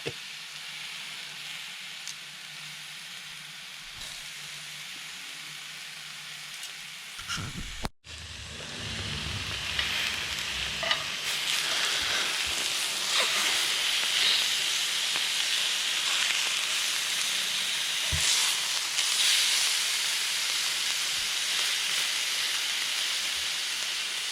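Steak and chicken searing in a pan over a penny can stove: quiet at first, then after a sharp clatter a loud, continuous hissing sizzle takes over and holds steady, with no talking.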